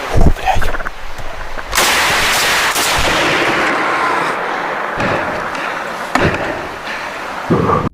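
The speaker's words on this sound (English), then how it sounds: "fired several shots into the darkness, the gunfire echoing through the silent forest" Several sharp gunshots crack in a dark forest at night, loud and close, each trailing into a long echoing decay, with a burst near the start and more shots spaced across the clip.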